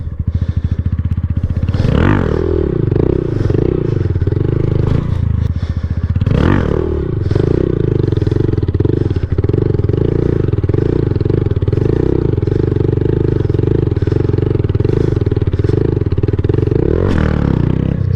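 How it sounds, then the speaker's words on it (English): Honda Grom motorcycle doing circle wheelies, a loud close buzzing engine held at high revs throughout, with repeated rev surges and dips as the throttle is worked, plus occasional clatter. "Little circle wheelie practice on the Honda Grom."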